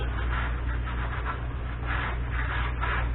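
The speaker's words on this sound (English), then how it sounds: "Wipe out this inner part of the flange here on the rotor." A cloth rubs steadily against the inner flange surface of a brake rotor on a 2002 Toyota Camry during wheel bearing work, a continuous soft scrubbing with slight rhythmic swells over a low hum.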